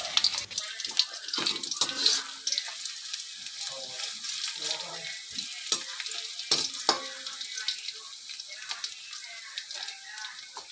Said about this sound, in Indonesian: Tumis bawang merah dan bawang putih hingga kecoklatan dan